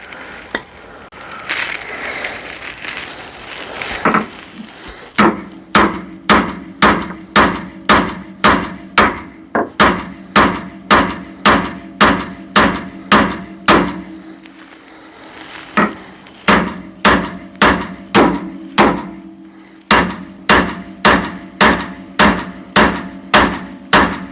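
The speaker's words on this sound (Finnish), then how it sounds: "Tuttu ja turvallinen Noan vasara." A hammer strikes repeatedly in a steady, rapid rhythm, each loud, close blow ringing sharply, with a short pause partway through before the pounding resumes.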